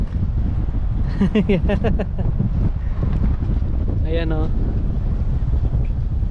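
Strong wind blowing at Souris Swing Bridge, a steady low rushing roar buffeting the microphone throughout, with voices talking over it.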